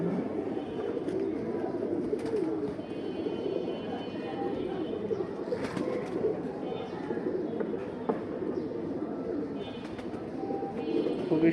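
Steady cooing from a pair of silver aluminium pigeons fills the scene, low and continuous, with a faint voice speaking now and then beneath the birds.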